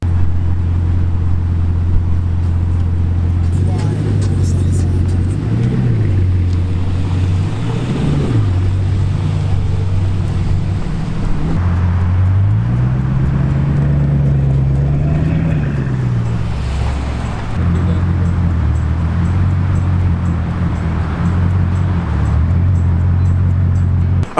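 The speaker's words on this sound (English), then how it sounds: "the 1500 horsepower Bugatti Chiron, finished in this Lannistar blue" A 1500-horsepower Bugatti Chiron supercar in blue drives past, its loud, steady engine drone swelling and dipping in pitch several times as it accelerates and eases off, with some wind noise throughout.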